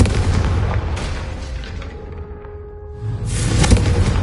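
Confringo fire spell blast in the video game Hogwarts Legacy: a loud, sustained booming rumble with crackling bursts that dips for a moment, then surges again into a heavy explosive roar.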